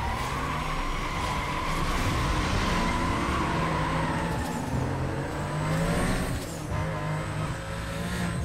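A Porsche in Need for Speed Most Wanted, engine droning loud and steady with tires squealing and skidding through turns, the pitch rising and falling as the car slides, no talking over it.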